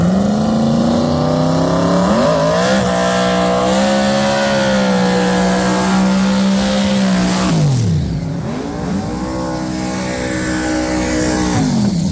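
A Street Outlaw small-tire drag race car launches at the track, its engine screaming loud and close, rising in pitch through the gears for several seconds, then dropping sharply before revving hard again as it pulls away.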